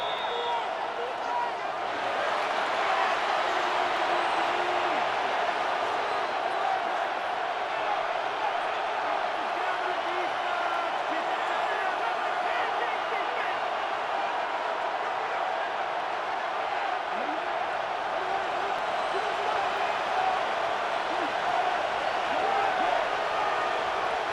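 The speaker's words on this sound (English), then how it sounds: "Plenty of shouts from this crowd as they watch the replay." A video game football crowd in a stadium keeps up a steady, distant roar with scattered shouts and cheers during a replay, sustained throughout at a moderate level.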